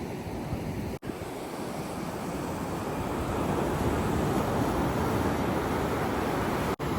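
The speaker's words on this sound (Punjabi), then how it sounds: "ਦੇਖੋ ਲਹਿਰਾ ਮਾਰਾ ਲਹਿਰਾ" Ocean waves break on a Goa beach, making a continuous, loud roar of surf with wind across the microphone and no talk.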